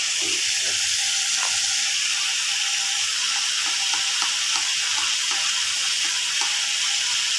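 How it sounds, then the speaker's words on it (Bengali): Ridge gourd frying in a pan with turmeric and chili, a constant bright sizzle and hiss close by with faint stirring clicks scattered underneath. "এ পর্যায়ে যে ধুন্দুলগুলো ভাজা হলো এখন হলুদ আর মরিচ দেবো"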